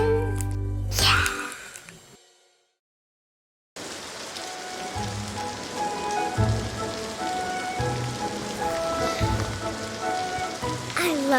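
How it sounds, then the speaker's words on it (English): Rain falling steadily on outdoor surfaces in a garden, a soft continuous patter after a brief silence, with faint talk and other sounds near the start. "I love the rain."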